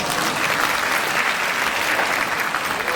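Audience at a Korean-language speech contest applauding a university student team, a loud, thick, continuous roar of clapping from a large crowd that stays level throughout.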